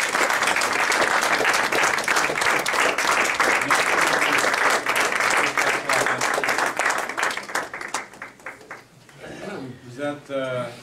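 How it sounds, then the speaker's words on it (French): An audience on its feet applauds at a Christmas-season gathering, with dense, loud clapping that carries for most of the stretch before thinning out, and a voice speaks over the fading end. "on devrait les remercier en se levant debout et en applaudissant"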